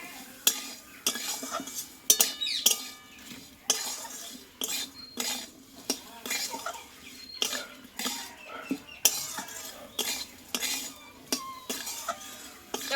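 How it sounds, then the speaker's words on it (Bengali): Green peas with ginger-garlic paste fried and stirred in a pan for a quick breakfast snack, heard as repeated sharp scrapes and clinks of a spatula against metal in a steady rhythm over a faint sizzle, close and fairly loud. "এবার সব উপকরণগুলো দিয়ে আমি ভালোভাবে ভেজে নেব মটরশুঁটিটা"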